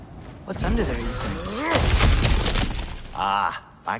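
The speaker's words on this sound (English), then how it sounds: "Ah, back to smashing through things for fun and profit" Objects shatter and break with a loud crash during God of War Ragnarok gameplay, with a heavy thud and breaking debris, while a character's voice speaks over the impact.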